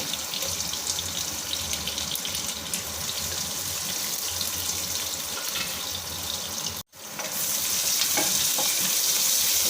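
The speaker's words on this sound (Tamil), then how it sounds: "வெங்காயம் வதங்கிடுங்க" Sliced onions frying in a pan for a biryani give a steady, close, dense sizzle that runs continuously, broken by one brief dropout near the end before resuming at full strength.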